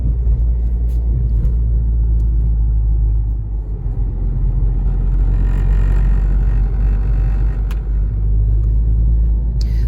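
A car travels along a road with a loud, steady low rumble from the engine and tyres inside the cabin, and faint clicks now and then.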